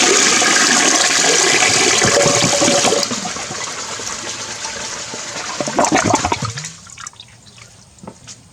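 An old toilet loaded with twelve golf balls flushes in a loud, rushing close-up surge of water that drops after about three seconds, gurgles and swells again, then fades to refill trickles and drips.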